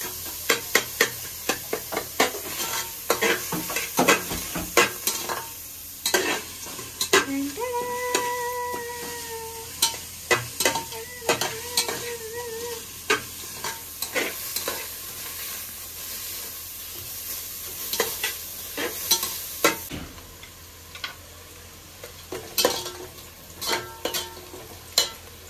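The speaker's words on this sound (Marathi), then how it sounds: "कांदा फोडते विथ तेजपत्ता ब्राऊन करते." Onion frying with bay leaf in a pan as Kokani-style crab curry starts, with steady close sizzling and hissing broken by repeated spoon or spatula knocks and stirring scrapes, alone without talk throughout.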